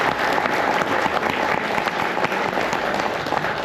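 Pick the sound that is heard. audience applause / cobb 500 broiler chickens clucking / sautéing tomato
audience applause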